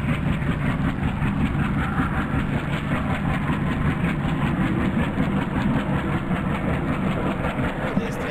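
Freight train braking to a stop in the Open Rails train simulator: a loud, steady rumble and hiss of rolling stock with faint rhythmic clacking, continuous throughout with no voices.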